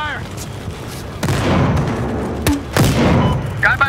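Gunfire in the video game Battlefield Hardline, with an MP7 in play: loud booming shots and bursts mixed with thuds, with shouted voices between the volleys.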